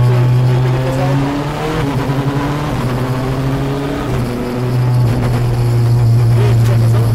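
A race car engine revs and surges as it is driven round to warm up its tires, its loud, buzzing tone rising and falling in pitch through several gear changes, close and continuous.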